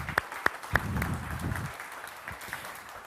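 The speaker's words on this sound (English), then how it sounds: "So a big round of applause for everyone in ZiXXar." A few sharp, scattered claps stand out early over a low crowd murmur from the audience at the ZiXXar International Performance Event in Mumbai, then the claps thin out into quieter room noise.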